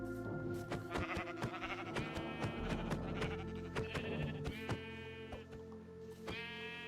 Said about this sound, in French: Ah, un mouton, bah voyons.